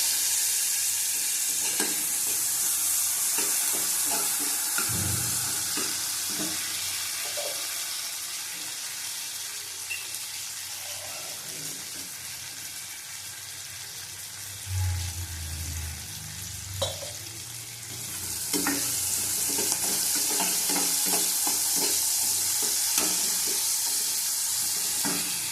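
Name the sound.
sautéing cumin powder and spices in a pan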